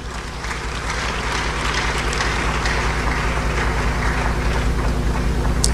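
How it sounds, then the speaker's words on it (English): An audience at a church service claps together in a steady, dense roar of applause that holds at an even level throughout, over a faint low hum from the hall. "A round of applause, please."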